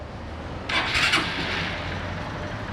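A Honda Titan motorcycle engine, its internal parts just replaced, runs with a steady low mechanical drone and a brief louder rev early on before settling back to an even idle.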